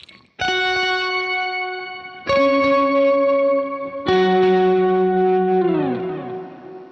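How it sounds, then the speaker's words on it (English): Clean electric guitar with an octave effect and no overdrive, three chords struck and left to ring for about two seconds each, the last one sliding down as it fades, close and alone. "I've got the octave turned on, and I've got it completely clean, no overdrives on"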